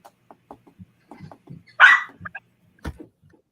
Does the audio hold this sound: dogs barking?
yes